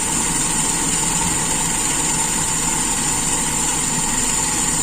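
Engine idling with its RPM set too high during carburetor idle-mixture adjustment, a loud, steady, even drone with a high whine throughout and no talk.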